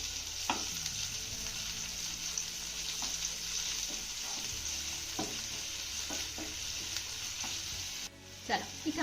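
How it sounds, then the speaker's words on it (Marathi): Sliced onion sautés in a pan with a steady, close sizzle, punctuated by several light scrapes and knocks of a spatula stirring, a little louder clatter at the end. "आता हा कांदा ना आपल्याला हलका मऊसूद होईपर्यंत परतून घ्यायचा आहे"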